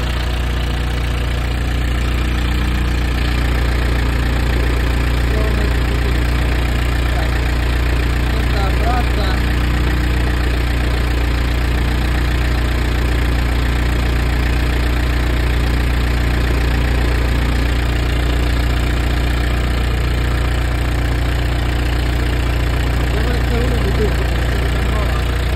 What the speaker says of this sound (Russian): Так, двигатель моется, сейчас работаем на холостом